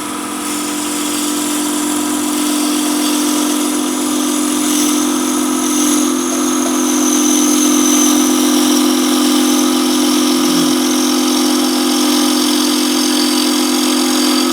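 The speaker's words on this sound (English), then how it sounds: "So now our final cut we're just going to hold the bowl gouge" A bowl gouge taking a final slicing cut on wood spinning on a lathe, a steady loud whine and hiss with a constant motor hum beneath, continuous and close throughout.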